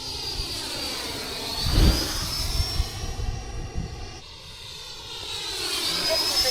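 Freewing F-16 90mm electric ducted-fan RC jet with AS3X+ flying over a model airfield, a loud high-pitched whine that swells as it passes close and then fades and builds again, heard alone with no talk.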